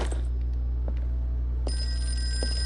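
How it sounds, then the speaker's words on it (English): An old-fashioned telephone bell rings continuously in the Call of Cthulhu video game, a steady close metallic trill over a loud low hum, with no talking. "my god, the phone's ringing."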